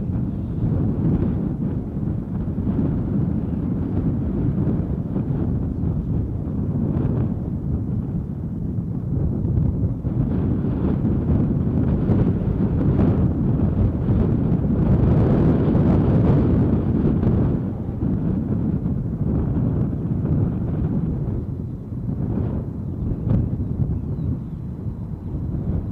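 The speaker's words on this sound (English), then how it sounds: "if you closed your eyes and listened to the wind, you could convince yourself we're on some kind of polar expedition" Strong wind blows outdoors at Edinburgh Airport, a steady, loud, rumbling roar buffeting the microphone for the whole stretch, swelling and easing slightly without any break.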